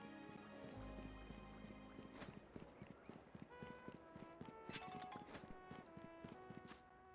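Footsteps of a character in combat boots in the video game Pokémon Legends: Z-A, a run of quick, crisp clopping taps in an even rhythm, close and clear over a soft tonal game background.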